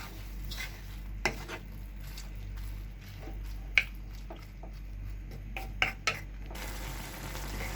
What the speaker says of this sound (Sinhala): අපි සෝයා මීට් එක හොඳට කලවම් කරගමු